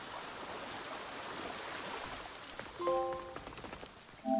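Steady rushing water of a waterfall at a hideout in the video game Assassin's Creed Shadows, a continuous close hiss, with short tonal game interface chimes near the end.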